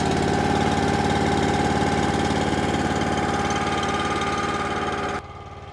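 A Wolfe Ridge 28 Pro log splitter's small engine idles while warming up, a steady close mechanical drone with a rapid even throb, dropping suddenly in level just before the end.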